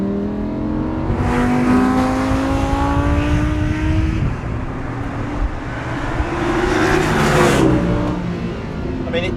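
A Lamborghini Huracan, 602bhp Gallardo successor, revving while being driven: a loud, close engine note rising and falling through gear pulls, climbing pitch sweeps repeating over several seconds with road noise underneath.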